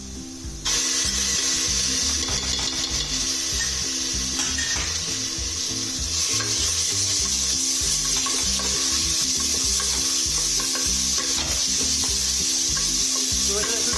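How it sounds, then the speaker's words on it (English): Ginger garlic paste sizzling loudly in a hot pan for dal bukhara, a dense continuous hiss with rhythmic stirring and scraping throughout, close and unbroken. "The next thing I will do is add the ginger garlic paste."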